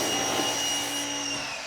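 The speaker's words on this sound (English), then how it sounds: "Need to turn the pressure washer on." A pressure washer runs at a car wash: a steady, loud motor whine with a constant hiss throughout.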